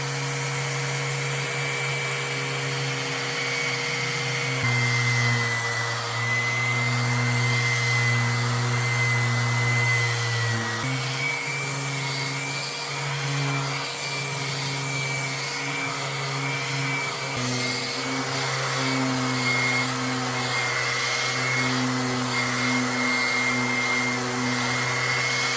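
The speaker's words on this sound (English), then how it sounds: "I just finished sanding" A power sander drones steadily and loudly on a water-damaged particle board dresser, its pitch shifting slightly as the tool moves and is pressed against the surface, with no talking.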